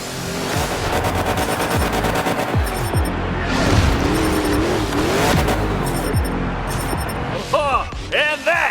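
A monster truck engine roars throughout a Monster Jam freestyle sky wheelie, loud and continuous with revving surges, under an excited commentator's voice and crowd noise.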